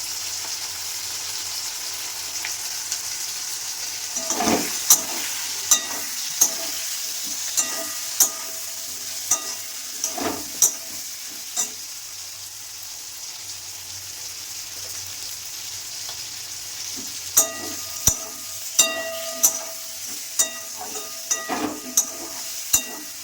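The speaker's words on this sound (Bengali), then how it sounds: "এবার এটাকে আমি একটু ভালো করে কষাতে থাকবো" Bata fish curry masala with ground cumin being stir-fried in a pan: a steady sizzle runs throughout, broken by repeated scraping and clinking strokes of the spoon against the pan, with no talking.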